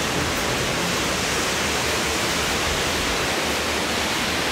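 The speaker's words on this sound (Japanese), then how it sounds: "ちょっとね、滝の音がすごくうるさいかもしれないんですけど、" Waterfall in a zoo enclosure, a loud, dense, unbroken roar of falling water filling the whole scene with no other sounds standing out.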